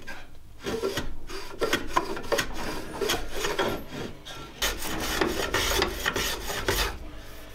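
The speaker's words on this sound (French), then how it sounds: "On reprise tout doucement de la tête du ukulélé, donc au rabot." A hand plane shaves the head of a wooden ukulele neck, smoothing away band-saw marks, giving a steady run of close, loud rasping strokes that repeat in a quick, even rhythm with no voices.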